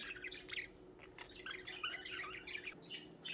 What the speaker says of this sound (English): Budgies are getting ready to go to sleep. They're shaking for their spots.